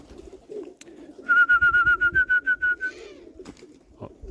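A flock of pigeons coos in a close, rhythmic series of about a dozen throaty notes, with faint rustling and flutter before and after.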